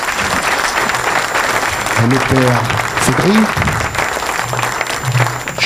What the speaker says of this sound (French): Sous vos applaudissements, on va applaudir.